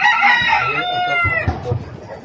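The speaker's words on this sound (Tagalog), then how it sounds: "Asan na yung iba kong manok?" Chickens cluck and a rooster crows loudly nearby, several birds calling over one another in a short burst.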